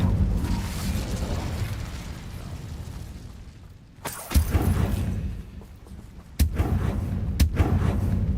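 Incendio fire spell effects in the video game Hogwarts Legacy, a loud rumbling, crackling roar punctuated by several sharp bursting impacts in the second half.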